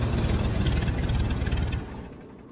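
An aircraft engine in an anime scene runs loud and steady with a rough low rumble, then drops away sharply near the end as the throttle fails to take hold.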